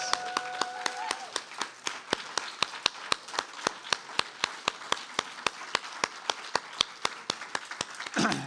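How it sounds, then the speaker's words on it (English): Audience applause after a poetry reading, heard as a single pair of hands clapping sharply in an even, steady rhythm, close and distinct, with a brief voice at the start. "Can we have another round of applause for Vievee Francis?"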